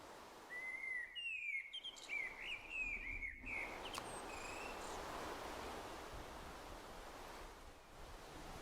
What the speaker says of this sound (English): The birds chirping, the wind and stuff.